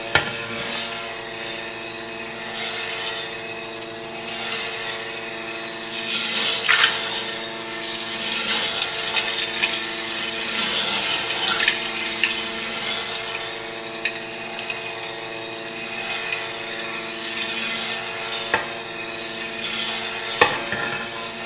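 An oil and lye soap mixture is stirred by hand toward trace, giving a soft, continuous liquid swishing with occasional light knocks, close and quiet with no talking.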